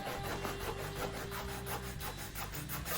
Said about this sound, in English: I'm going to continue sanding on the back side here